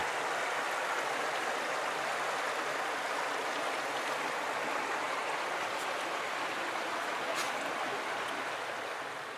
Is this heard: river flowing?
yes